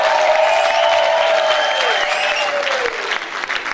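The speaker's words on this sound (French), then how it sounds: "Est-ce qu'il y a quelqu'un qui peut acclamer très très fort pour..." Church congregation applauding and cheering loudly at a graduation service, a dense burst of clapping with a shrill whistle or cry sliding downward, tapering off slightly toward the end.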